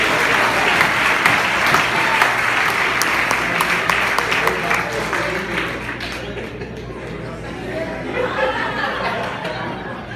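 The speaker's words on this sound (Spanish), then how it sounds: "Le un aplauso al Señor y alégrate." A church congregation applauds with loud, dense clapping mixed with chuckles and crowd voices, then gradually thins and softens toward the end.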